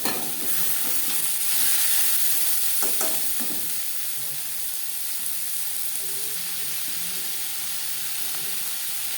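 Onion and tomato sizzling in hot oil in a pan for an Aar fish curry, a steady close frying hiss with a few stirring scrapes early on, no voices.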